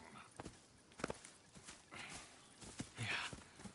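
Horses walk at a slow pace in Red Dead Redemption 2, their hooves landing in soft, uneven clip-clops at mid distance, with a few brief snorts and some tack and harness noise mixed in.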